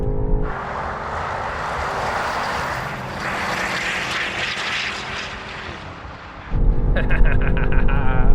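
Several SUVs, including a 2023 Porsche Cayenne, Lamborghini Urus, BMW X6, Range Rover and Mercedes G-Class, accelerate hard off the line in a drag race, a sustained loud engine roar that swells at the end, with a brief cheer.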